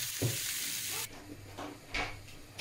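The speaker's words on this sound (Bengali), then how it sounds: "ওগুলো সিমের সাথে ভাজা হবে" Flat beans frying in a pan with garlic cloves, onion, dried red chili and green chili: a loud, hissing sizzle that drops off, followed by several scraping stirs, with no talk.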